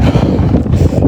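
Strong wind buffeting a microphone outdoors on a hot evening, a loud, constant low rumbling roar filling the whole moment with no speech.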